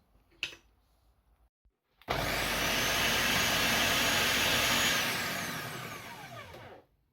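A food processor whirs loudly and steadily for about five seconds as it blends tart dough ingredients, including icing sugar and a pinch of salt, for a strawberry tart, then spins down after a faint knock.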